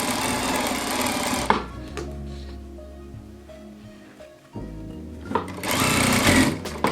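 A sewing machine stitches fabric along a piping cord, whirring in fast, close bursts that start, pause and resume, with quieter mechanical clicks in between.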